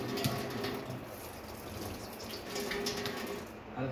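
Potatoes being washed under a running tap, with a steady close rush of water and faint splashing throughout, no talking.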